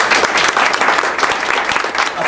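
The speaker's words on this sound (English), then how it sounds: "Would you just give your panel, ladies and gentlemen, a big round of applause this evening?" Audience applause for a discussion panel at an Oxfam evening event, a dense, sustained clatter of many hands clapping throughout, loud and steady with no gaps.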